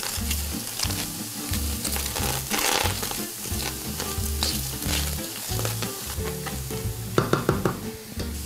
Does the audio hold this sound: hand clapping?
no